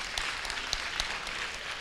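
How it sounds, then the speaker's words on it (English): A crowd clapping hands at a community road meeting in Eersterust, brisk overlapping claps with a few sharper individual claps standing out, moderately loud. "so I think clap hands for him, man"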